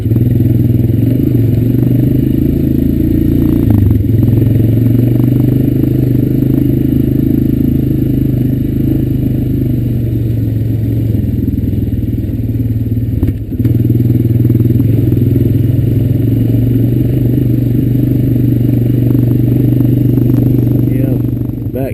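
A Honda Recon ES ATV engine drones loud and steady throughout the ride through tobacco fields, with faint rattles and clatter from the rough ground.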